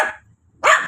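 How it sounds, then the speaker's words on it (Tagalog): Winter, the father of a litter of puppies, barks sharply twice, once at the start and again after a short silence; both barks are loud and close. "Yan, si tatay po tumatahol."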